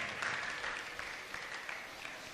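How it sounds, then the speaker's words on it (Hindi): A room of listeners at a religious discourse gives a short burst of applause, faint and somewhat distant, clapping steadily for a couple of seconds. "एक बार जोरदार तालियां बजाइए।"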